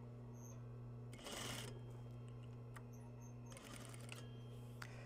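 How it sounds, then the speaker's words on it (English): A sewing machine stitches a plain seam with a back tack, making two short, faint bursts of whirring over a steady low hum. The room is otherwise quiet. "I'm going to start sewing forward a couple of stitches and then I'm going to back the machine up"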